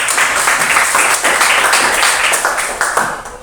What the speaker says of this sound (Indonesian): Bagus sekali, tepuk tangan dulu